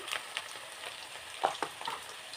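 Homemade potato french fries deep fry in hot oil, a soft, steady bubbling crackle with a few brief louder pops, heard close but fairly quiet.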